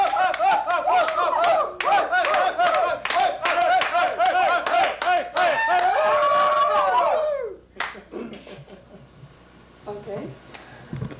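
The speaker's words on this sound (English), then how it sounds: "So we clap our hands together," A group claps hands in unison during an exercise session, a loud rapid run of claps lasting several seconds, then an abrupt stop followed by quieter scattered thumps and movement.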